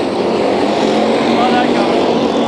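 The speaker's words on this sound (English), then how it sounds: "this is street stock racing right here" Street stock race cars running bumper to bumper on the Orange Show Speedway track, a loud continuous engine roar close by, with a voice talking over it.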